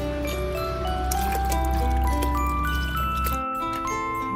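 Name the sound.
pouring one litre of milk into a pot for canjica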